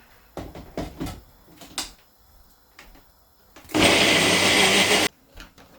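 A few clattering knocks and taps lead into a kitchen mixer grinder grinding juice, which roars loud and steady at close range for just over a second before cutting off abruptly.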